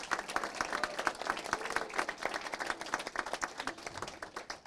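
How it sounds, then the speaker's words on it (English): An indoor audience at a city council meeting breaks into sustained, dense applause, many hands clapping steadily at moderate loudness. "Can we give them all a round of applause"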